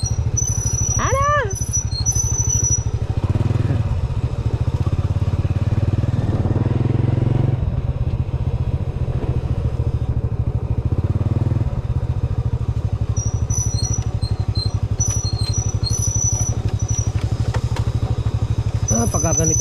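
Motorcycle riding a muddy rural road in the rainy season, engine droning loud and steady throughout with clattering as it works through the mud, and someone talking over it.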